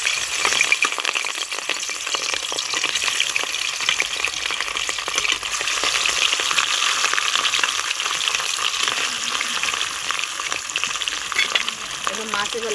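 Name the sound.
rohu fish frying in hot oil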